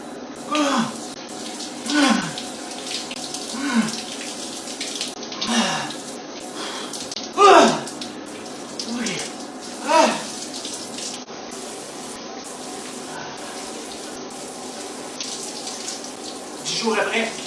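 Cold shower water running continuously as an even hiss, close and steady, broken by occasional gasps and vocal sounds from a person under the icy spray.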